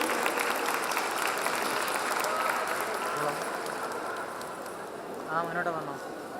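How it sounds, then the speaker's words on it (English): Sustained applause from an audience for quiz competition champions in Muscat fills the whole stretch, steady and dense, with a brief voice emerging near the end. "Please give a big round of applause to our champions."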